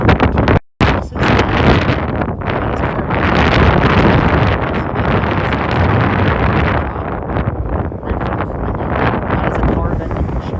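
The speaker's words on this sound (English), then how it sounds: "It's getting windy out." Strong wind buffets the microphone outdoors in Las Vegas Chinatown, a loud, roaring rush that surges and dips, with a brief dropout near the start.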